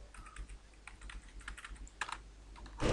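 Computer keyboard typed on while entering code for a Unity airplane simulator game, a steady run of quiet, close key clicks through the whole stretch with a louder flurry of keystrokes at the end.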